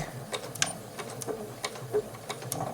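A Janome 8077 sewing machine stitches slowly, giving scattered soft clicks and short mechanical ticks with uneven gaps rather than a steady run, close and fairly quiet.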